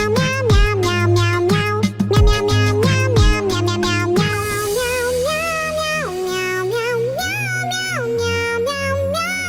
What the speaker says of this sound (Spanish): se trata de una melodía hecha a puro maullido